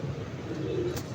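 A cream-colored pigeon gives a short, low, throaty coo, close and fairly soft, heard alone.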